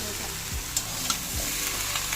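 Mixed Bengali vegetables for shukto being stirred and sautéed with salt and turmeric in a hot pan, a steady close sizzle with a few scraping stirs and small pops, no voices.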